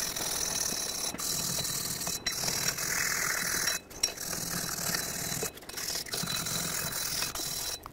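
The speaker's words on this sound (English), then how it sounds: "I'm going to use a wire brush." Wire brush scrubbing between the wheel lug studs on a 1997-2003 Ford F-150: close, steady, raspy bristle strokes in a continuous run, with a few brief pauses, and no talking.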